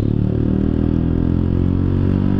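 A Yamaha R15 V2 motorcycle with a SOHC engine idles rough and loud, a continuous low throbbing drone with uneven clatter, heard up close with no talking.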